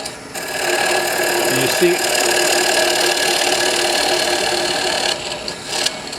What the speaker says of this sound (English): I'm going to go ahead and start taking the center out using this little multi-tool.